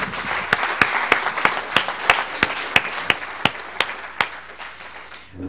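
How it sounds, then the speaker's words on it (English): Applause for a panel at a recycling summit hosted by a chamber of commerce: sparse, evenly spaced claps ring out at a slow, regular pace over a soft room background, moderately quiet and without talk. "Let's have a round of applause for the panel"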